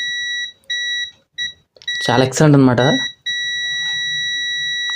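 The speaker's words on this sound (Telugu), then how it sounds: "ఒకసారి కంటిన్యూటీ మోడ్లో పెట్టి చెక్ చేద్దాం బీప్ సౌండ్ ఎలా ఉందనేసి." An HTC DM 830l+ digital multimeter in continuity mode gives a loud, steady electronic beep in several short bursts, then one long sustained tone, with someone speaking briefly in between.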